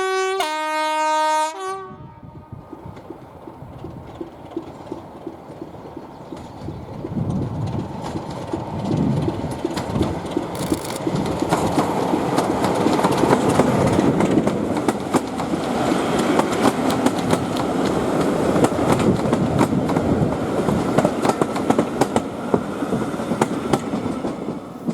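A Class 25 D7612 Sulzer Type 2 diesel locomotive crosses Corfe Common with a 1960s-style interregional train: a short horn blast opens, then a loud, swelling engine roar and rail rumble with clattering wheels as it passes near.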